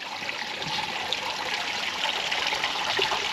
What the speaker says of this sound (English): My organic filter system, that water's spotless.